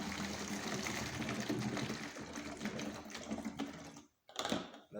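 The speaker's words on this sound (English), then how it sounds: "I'll add the water to make sure it is thoroughly mixed." Water pours and swirls as it is added and mixed into an organic acid solution, a steady close liquid rush that briefly stops and then resumes.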